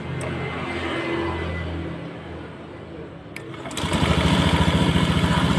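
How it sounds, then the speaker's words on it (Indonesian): A Honda Scoopy scooter engine with a very rough-running fault starts up and runs with a rough, pulsing idle, preceded by low mechanical rumble and brief clicks. "Coba Mas, motor hidupkan Mas."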